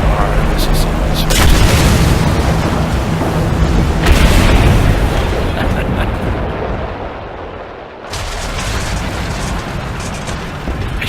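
Bomb explosions in War Thunder, loud booming blasts over a steady aircraft roar, with a voice talking, a brief drop to quiet and then renewed blasts.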